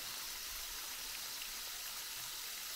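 Water from garden irrigation rushes steadily near a greenhouse with seedlings, a soft continuous hiss of flow with no pauses and no voices.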